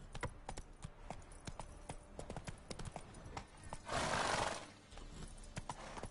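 Roach, a horse in The Witcher 3, gallops with a steady rapid clip-clop of hooves on the ground, close and alone, with a brief burst of broadband rushing noise midway.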